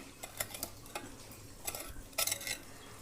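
Fish being mixed by hand with coriander leaf paste and spices for spiced pomfret fry, giving soft wet squelching and scattered clicks and scrapes of a bowl, close and fairly quiet, without talk.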